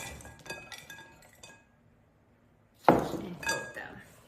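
Berries are dumped into a mixing bowl for a triple berry pie and stirred, giving a sudden clattering tumble with light clinks after a quiet pause, preceded by faint kitchen sounds.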